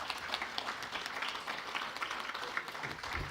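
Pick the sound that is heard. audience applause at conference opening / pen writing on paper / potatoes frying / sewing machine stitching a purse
audience applause at conference opening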